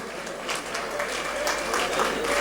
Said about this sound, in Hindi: समझ में आए तो ताली बजा सकते हो।